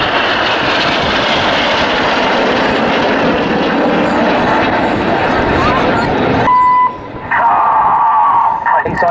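Red Arrows jets flying in close formation at an RAF Cosford airshow, a loud, steady roar of engines filling the sky with a brief dip and a whining tone near the end, with a commentator talking over it.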